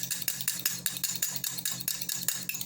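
Rapid rhythmic clinking of a utensil beating an egg mixture inside a mug without a whisk, quick regular taps close and fairly quiet, no talking.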